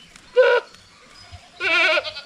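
Two goats give two loud, nasal bleats about a second apart, close to the microphone, with faint low thumps and rustling between the calls.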